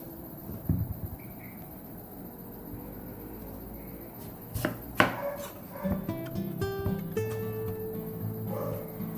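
A knife chops green papaya into pieces for a Kerala dal curry, giving scattered sharp knocks and clatters on a board at close range, fairly quiet, with no talking.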